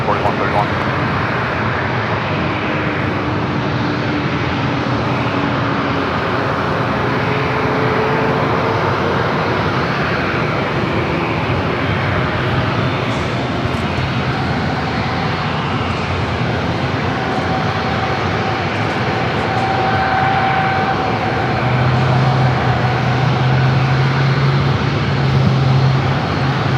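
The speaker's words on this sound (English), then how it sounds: "Southwest flight heading to Vegas." A Southwest Airlines jet leaving San Diego airport for Las Vegas produces a long, even engine roar that stays loud and steady for the whole stretch, with faint background voices.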